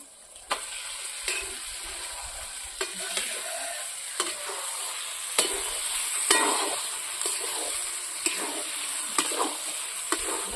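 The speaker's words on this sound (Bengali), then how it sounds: "আমি এখন মশলার সাথে ভালোভাবে মাংস কষিয়ে নেব" Chicken giblets and liver frying in spice masala in a pan, with a constant oily sizzle and recurring spatula scrapes and taps as the meat is stirred, close and moderate in level, no voices.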